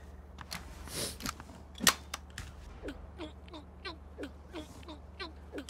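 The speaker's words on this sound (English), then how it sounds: "She just turned and started shooting me instead." Enemy gunfire in the battle royale game Rapture Rejects, a run of sharp, fairly faint shots and pops, one louder crack near the start, then steady evenly spaced reports over a low hum.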